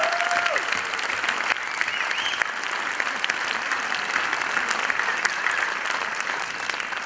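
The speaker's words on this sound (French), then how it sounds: "On peut les applaudir très fort." An audience in a theatre hall at a TV film premiere applauds steadily, dense clapping sustained at even loudness for the full stretch with no talk.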